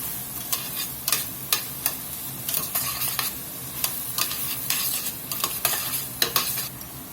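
About 2 teaspoons of minced garlic sizzling in a pan for grillades while a spoon scrapes and stirs, steady frying hiss broken by regular sharp clicks of the utensil against the pan, close and alone.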